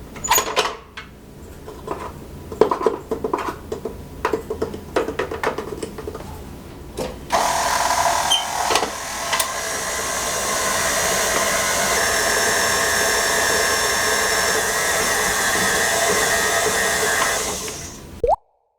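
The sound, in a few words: mixing tart batter after adding the flour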